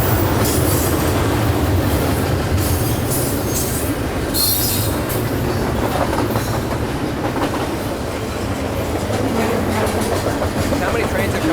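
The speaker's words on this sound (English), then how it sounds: "There's a young kid filming the train going by." A freight train of 40-foot cars rolls past near Halifax, loud and close, with steady clickety-clack from the wheels and the screech of squealing rails throughout, while people chat nearby.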